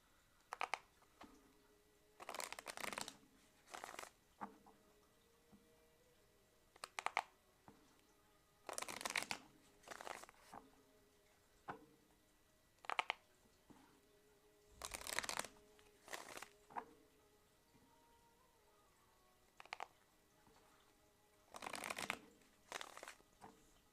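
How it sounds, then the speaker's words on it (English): Tarot cards being shuffled by hand in repeated crisp riffles and soft flicking bursts, close and fairly quiet, separated by short pauses, with no voices. "Tell me when to stop shuffling, okay?"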